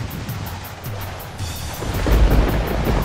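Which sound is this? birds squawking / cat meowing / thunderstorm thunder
thunderstorm thunder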